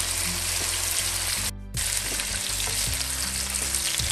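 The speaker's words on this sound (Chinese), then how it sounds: "豆腐煎至八面金黄" Tofu pieces fry in oil in a wok with a loud, continuous sizzle that breaks off briefly once, then returns along with light clatter. No one talks.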